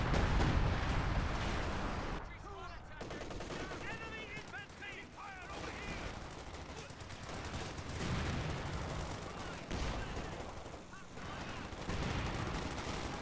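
Artillery barrage in a real-time strategy video game match: rolling booms and overlapping gunfire rumble continuously at high intensity, with several bursts of rapid fire and distant explosions mixed throughout.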